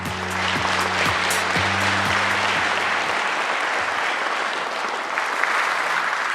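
An audience at a formal government policy presentation bursts into loud, steady applause for a presenter, dense clapping sustained throughout at close range, with a low musical fanfare underneath at first.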